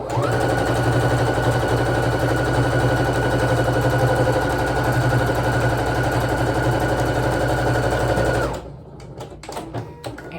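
A sewing machine stitches a quilt in a fast, steady mechanical whir and chatter, close and loud for about eight seconds before stopping abruptly, followed by faint handling clicks.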